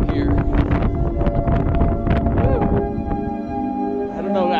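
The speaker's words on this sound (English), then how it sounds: "Quite windy up here." Strong winter wind gusts across a mountain summit on the Elk Knob trail in North Carolina, a steady roar buffeting the microphone throughout and easing slightly near the end, with people talking over it.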